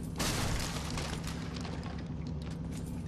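Frag grenades explode in the video game Fallout 3: a sudden loud boom bursts out, then rolls into a long, dense wash of rumbling blast noise that stays steady to the end, with no voices.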